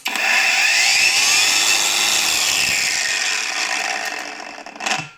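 Budget Leader cordless angle grinder running at its first start-up: a loud, steady high-pitched whine held for about four seconds, then winding down with a brief rattle near the end, with no voices.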